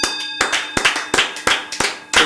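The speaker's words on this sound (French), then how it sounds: "On applaudit très fort Sokolo, le solutionneur." Audience clapping on a French daytime show: a handful of loud, close, sharp claps in an uneven rhythm, each with a ringing decay, and quiet gaps between them.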